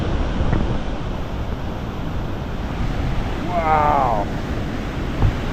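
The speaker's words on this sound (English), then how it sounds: "I can hear and see the river down here in front of us." A loud rushing river at Sunwapta Falls roars continuously with a broad, steady wash of noise, while a person briefly exclaims over it.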